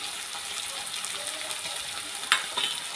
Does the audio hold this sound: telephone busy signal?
no